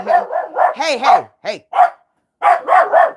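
A dog barks repeatedly and close by, a burst of sharp barks with a couple of whiny yelps, pausing briefly before three more barks; a person briefly calls out once.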